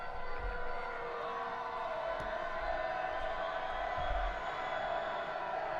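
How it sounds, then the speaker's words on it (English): Supporters of the Bet Shemesh Rebels keep up a steady, distant roar at an American football game against the Jerusalem Lions, with a continuous wash of crowd noise. "Shemesh crowd making itself heard"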